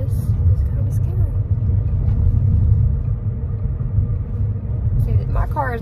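Car driving in traffic heard from inside the cabin, a steady low road rumble and engine drone throughout, with faint higher tones near the end.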